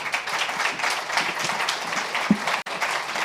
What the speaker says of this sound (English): clap for my panelists